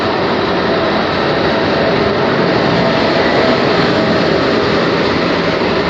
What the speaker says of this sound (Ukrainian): Тут поїзди.